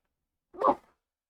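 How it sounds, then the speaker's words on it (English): A single short, sharp sneeze, close and fairly loud, with silence before and after. "First sneeze of all the entire series."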